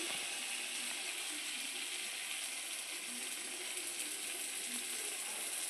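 Oil bubbling steadily in a kadai while poa pitha fry, a continuous close sizzle with fine crackles and no voices.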